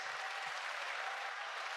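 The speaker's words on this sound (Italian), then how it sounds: "applauso per i Jalis!" Audience applause for the pop duo Jalisse at a live Christmas show in Ollolai: steady, dense clapping from a crowd, moderately loud and continuous, with no voices over it.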